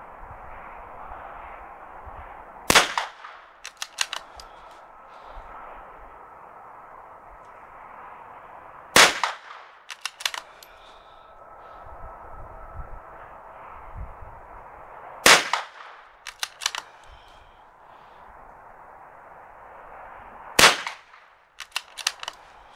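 Mk II rifle firing budget ammunition at a target, four loud sharp shots spaced several seconds apart, each followed by brief echoing cracks over a steady background hum.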